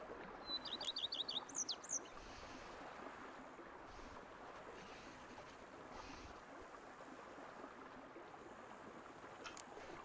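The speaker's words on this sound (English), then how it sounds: "Bees buzzing, birds chirping." Birds chirping in a peaceful outdoor scene from the video game The Witcher 3, a quick burst of bright twittering early on and then faint, distant calls over a soft, steady ambient wash.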